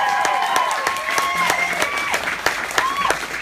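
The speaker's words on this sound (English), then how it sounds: "let's give a round of applause for the band" Audience at a small Tucson venue applauds and cheers for the backing band after a singer's solo songs, steady dense clapping with scattered whistles and shouts throughout, a voice faintly heard within the crowd.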